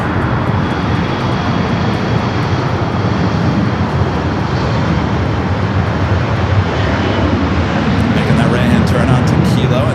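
A loud, continuous engine drone from a Turkish Airlines jet taxiing to the gates at LAX after arriving from Istanbul, close and steady, with a voice talking over it.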